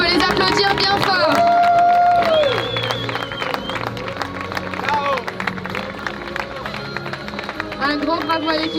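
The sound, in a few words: audience applauding a ship's crew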